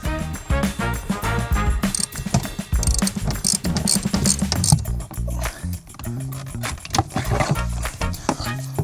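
A ratchet clicks rapidly in repeated bursts, working loose a seatbelt bolt inside a crashed Porsche Cayenne, with metallic clatter and knocks close by.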